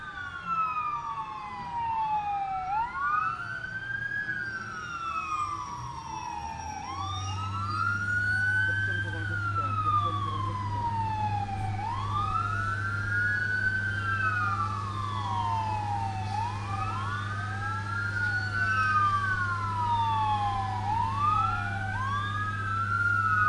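Airport fire brigade vehicles race toward a crash site during an aircraft accident emergency drill, their wailing sirens rising and falling continuously, loud and close, several overlapping, with a steady engine drone joining partway through.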